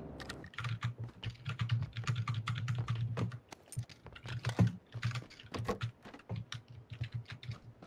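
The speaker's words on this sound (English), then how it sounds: "Someone's keyboard sounds like a..." Rapid, uneven clatter of computer keyboard typing during a PUBG game session, close and fairly quiet, with brief pauses between bursts.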